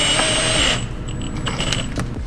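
A power tool drives body fastener screws into a car's front bumper lip, a loud close whir that stops abruptly, followed by a few short bursts and clicks.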